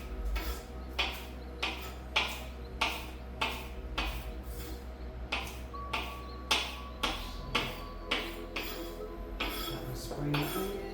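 A knife chops cabbage on a cutting board in a home kitchen with an even, steady rhythm of about fifteen sharp strikes, close and clear over a low background hum.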